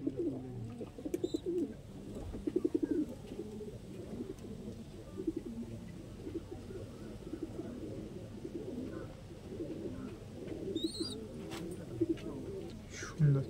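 Lalsira and KTM Teddy pigeons coo softly in a low, continuous murmur, with faint bird chirps and a little background talk mixed in.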